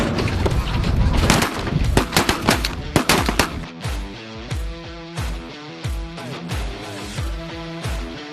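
Loud shotgun blasts ring out in quick succession during a bird hunt outdoors, several sharp reports with echoing tails followed by a steady series of spaced shots.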